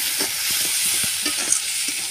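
Ground cumin and chili paste sizzle in a hot pan, a steady close-up hiss of frying with soft scraping knocks from stirring at irregular intervals.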